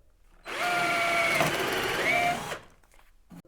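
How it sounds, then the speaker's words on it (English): A power drill whirs loudly for about two seconds boring an 8mm hole in wood, its pitch dipping briefly mid-run, then winds down. "You drill two 8mm holes anywhere in here."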